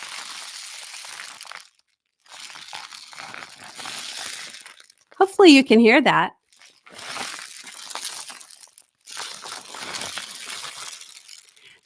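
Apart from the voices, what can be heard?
homemade rain stick with rice turned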